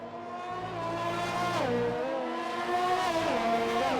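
A McLaren race car engine in a racing video game, a loud, high, continuous whine that climbs through the revs, dips sharply at gear changes and rises again, with no talking.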